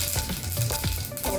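Mustard seeds sizzle in hot oil with a brief, close crackle and a few popping bursts over a steady frying hiss. No one speaks.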